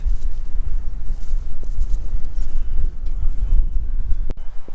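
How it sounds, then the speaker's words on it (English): Strong gusty wind buffets the microphone at a graveside outdoors, a loud continuous low rumble with surging gusts and one sharp knock near the end. "But man, this wind"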